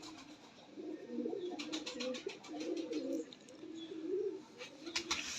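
A white male Neeldumba pigeon coos close by in a run of low, throaty rolling phrases, repeated several times with brief pauses, over quiet background clatter.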